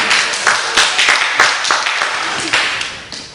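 Audience applause breaks out at a university lecture in Jeju, a burst of scattered claps from a crowd that swells and fades over a few seconds with no one speaking.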